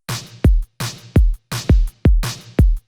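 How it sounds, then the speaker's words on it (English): An 80s-style kick drum sample from Splice thumps loudly in a steady repeating pattern with deep booming low-end decay, interleaved with bright noisy snare or clap hits in a synth pop beat. "Then I just use this 80s kickoff splice that sounds like this"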